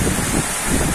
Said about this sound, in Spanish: Y mirando cómo se está desarrollando esta tormenta, con lluvia muy, muy fuerte.